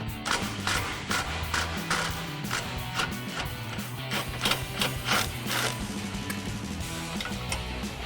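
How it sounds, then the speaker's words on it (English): A 13 mm swivel socket on an extension turns loose an exhaust hanger bolt on a 2024-2025 Mustang GT, heard as a busy, rapid ratchet clicking with a rhythmic mechanical chatter and some thumps up close. "So I've got a 13 millimeter swivel socket on an extension to pop this off."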